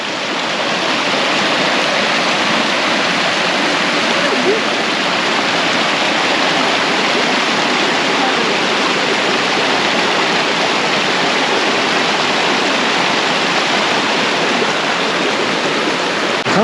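Rushing stream water on a hike in Fishlake National Forest, a loud, continuous close-up roar of flowing water that holds steady throughout with no voices.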